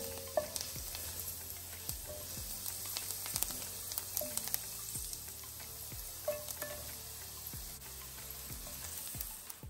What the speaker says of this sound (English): And then I added the garlic, and I'm sauteing everything.